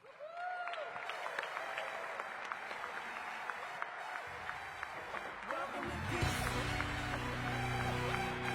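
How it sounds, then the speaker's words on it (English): A crowd applauds and cheers to welcome the Washington Wizards at a public event, as a dense, sustained wash of clapping that swells slightly toward the end, with an announcer's voice over it. "put your hands together as if it is a holiday morning, and welcome to this in space, your Washington Wizards"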